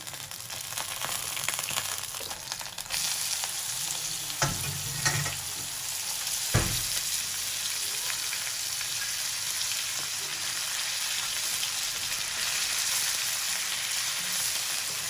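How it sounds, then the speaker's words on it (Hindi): Steady, dense sizzling of hand-minced beef keema frying in a hot pan, with a couple of brief stirring scrapes partway through. "हमारे पास 1 किलो कीमा है बीफ का, कुटा हुआ हाथ का, ये हम डालेंगे"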